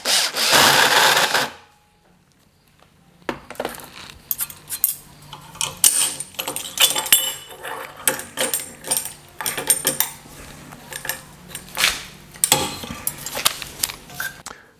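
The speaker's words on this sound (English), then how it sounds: "Let's just clean up the hole a little bit with this countersink bit." A loud whirring burst is followed by a pause, then a series of grinding, scraping bursts as a countersink bit cuts and cleans a drilled hole in metal up close.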